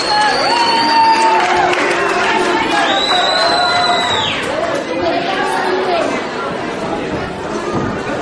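School freshman ball crowd in Broșteni, Suceava, clapping and chattering for couple number 2, a busy mix of voices, shouts and applause under whistling or squeaky tones.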